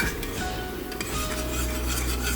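Vegetables for a chicken stir fry cook in a pan with a soft sizzle, while a utensil stirs and clinks against the metal in close, irregular scrapes and taps, with no voices.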